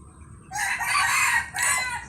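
A young, newly caught Thai game rooster of small build crows once, close and fairly loud, in a short call with a brief break before its final note.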